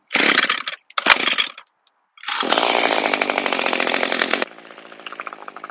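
A small two-stroke engine fitted with a HiPA replacement carburetor sputters in two short bursts, then catches and runs at a loud, buzzy, high rev before dropping to a lower, steady idle.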